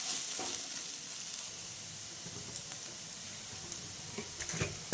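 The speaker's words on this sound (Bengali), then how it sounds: "বেসন এর সঙ্গে খুব ভালোভাবে ভেজে নেব অন্তত তিন মিনিট" Potato, onion, garlic and ginger fry in a pan with gram flour, giving a faint, continuous sizzle with occasional stirring scrapes and small pops, no one talking.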